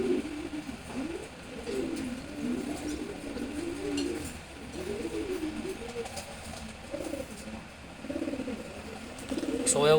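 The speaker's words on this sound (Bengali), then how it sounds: "এটা হচ্ছে মাক্সি হুমা বেবি কবুতর।" Huma pigeons coo in repeated soft, rolling phrases beside a 12-day-old chick, the low calls steady and fairly close against a light background hiss.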